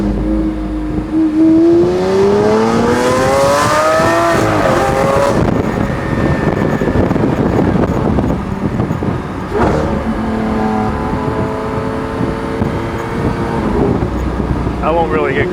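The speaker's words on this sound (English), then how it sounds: "I can make this car sound good at any RPM, man. Listen to that." A Lamborghini engine revs while driving at low speed, rising and falling in loud, close sweeps with a sharp burst and crackle midway, then settling to a throaty drone as someone talks over it.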